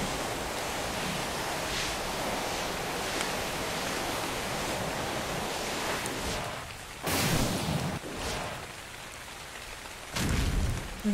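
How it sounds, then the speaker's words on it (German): Steady hissing rain in the video game ARK: Genesis 2 pours continuously, with a couple of louder whooshing bursts near the end. "Jetzt regnet's. Ich brauche Wasser und jetzt fängt's an zu regnen."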